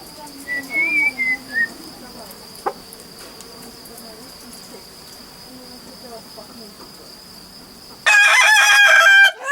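A speckled rooster crows loudly and close near the end, over a quiet background of chirping crickets and occasional distant bird calls.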